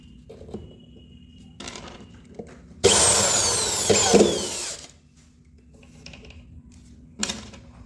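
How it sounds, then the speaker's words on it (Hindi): A power driver runs a screw into a wooden drawer while a multipurpose lock is being installed, giving one loud whirring burst of about two seconds. Quieter clicks and handling come before and after it. "अब इसमें वो स्क्रू लगा लेते हैं।"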